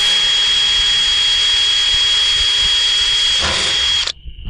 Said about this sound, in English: So we're going to go ahead and bolt this guy in there